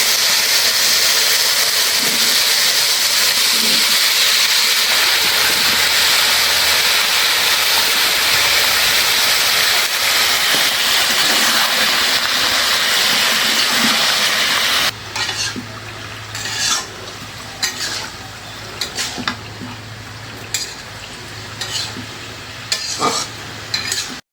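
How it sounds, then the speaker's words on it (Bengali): Eggplant and potato pieces drop into hot spiced oil that fries with a loud, steady sizzle. The sizzle then turns quieter and patchy, broken by scraping stirs, and no one speaks. "এখন দিয়ে দেবো সবজি, বেগুন আর আলু"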